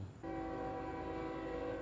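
A train passes at a distance, its horn sounding as a sustained tonal blare that starts abruptly and holds steady, fairly faint.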